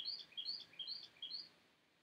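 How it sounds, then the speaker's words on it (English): Small birds chirp back and forth outdoors in about four bright, quick paired calls, fairly faint and distant, then fading to quiet near the end. "Y'all hear them birds, y'all? Isn't that beautiful? They're talking back to each other."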